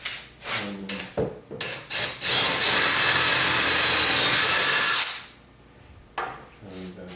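A steady, loud drill whine bores into live edge wood through a drill block for about three seconds, with brief handling knocks before and after.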